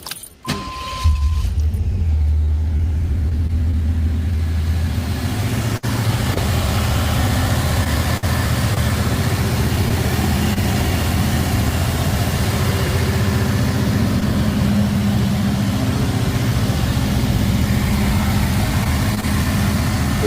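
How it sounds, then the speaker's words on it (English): A 1988 IROC Z muscle car engine cranks and catches, then settles into a loud, steady, rumbling idle that continues unbroken for about twenty seconds, close by with no talking. "We'll just hear like some engine noise when they start it up and like that."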